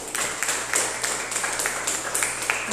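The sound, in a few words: congregation clapping in church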